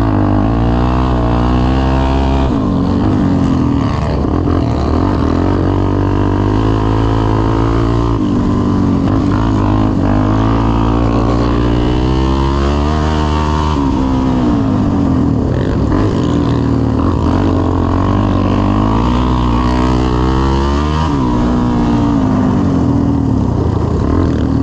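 Four quad bikes race around a track, engines screaming loud and continuous against the rev limiter, with pitch rising and falling as they accelerate and bounce off the cutoff.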